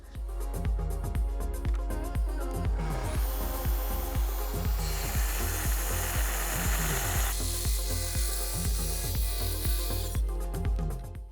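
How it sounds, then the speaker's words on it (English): A track saw cuts along a straight line through a wooden desk top, a steady loud whine with a dense rasping roar from start to finish, alone with no talk. "And to make the cut, I'm just going to use my track saw."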